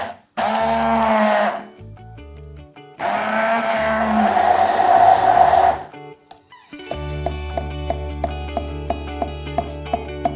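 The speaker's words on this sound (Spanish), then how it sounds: "Y lo batimos bien con la batidora de mano." A hand blender whirs loudly through a mix of ingredients in two bursts, then a softer rhythmic mechanical ticking follows near the end, all close-up with no talking.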